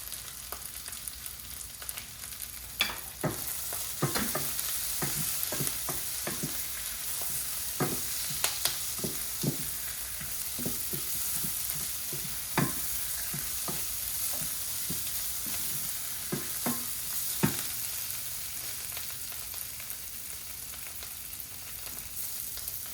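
Spices roasting in a pan for Gujarati-style aloo poha: a continuous soft sizzle of frying, broken by repeated sharp scrapes and clacks of a spoon stirring against the pan, close and alone with no voices.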